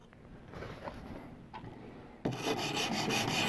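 A knife blade is drawn across a sharpening surface to raise a burr, making soft, close, rhythmic scraping strokes that grow louder and denser partway through.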